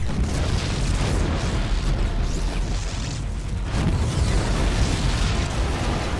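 Continuous loud rumbling blasts and booms from explosions in the video game StarCraft 2, dense and sustained across the whole stretch with no voices.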